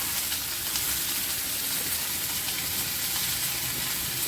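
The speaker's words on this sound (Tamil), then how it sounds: "நல்லா வதங்கட்டும் தக்காளி" Chopped tomato and brinjal sauté in oil in a pan for a spicy chutney, giving a dense, steady close-up sizzle and hiss that runs continuously with no talking.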